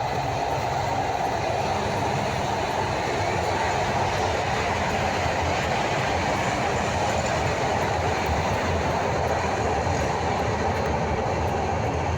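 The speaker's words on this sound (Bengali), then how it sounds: "ট্রেন যাচ্ছে।" A train rolls across the Dhaka–Mawa rail bridge over the Dhaleshwari River, a loud, continuous close rumble with faint rhythmic clatter from wheels on the rails.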